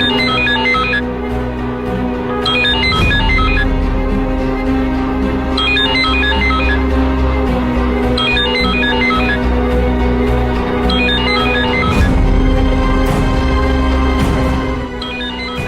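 A telephone ringtone from a Kannada TV serial scene sounds in repeated bursts over about fifteen seconds, riding above a steady, loud background music bed with no talking.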